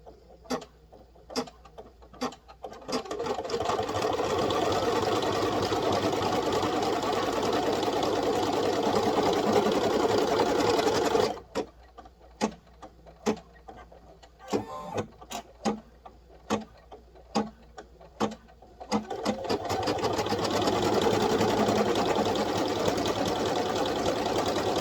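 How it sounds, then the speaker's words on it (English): An embroidery machine runs the final stitch attaching a pocket, a fast steady mechanical chatter that pauses briefly midway with scattered ticks, then resumes, fairly close and without talk. "now we're going to take this to the machine and do the final stitch"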